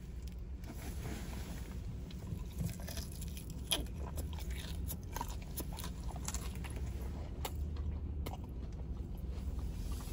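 Crunchy Raising Cane's fried chicken is bitten and chewed up close, giving scattered sharp crackling crunches over a low, steady background hum.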